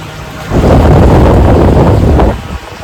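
A loud rushing burst of rain and wind swells in, holds for about two seconds, then fades back to a quieter background.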